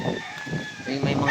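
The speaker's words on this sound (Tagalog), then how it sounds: "May mga manok pa." Chickens clucking and calling in a typhoon-battered village in Leyte, with scattered fowl sounds at close to moderate distance over a steady background hum and outdoor noise.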